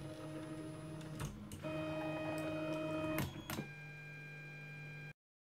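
A 3D printer homes its axes, giving a steady tonal motor whine with sharp clicks and brief changes in pitch as each axis moves, before the sound cuts off abruptly.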